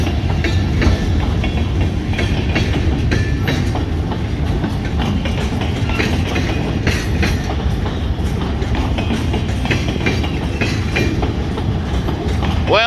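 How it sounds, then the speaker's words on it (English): A freight train rolls past on railroad tracks near Randville, a loud continuous rumble with rhythmic wheel clatter throughout and a brief squeal at the end. "I guess this train is heading all the way up to Channing."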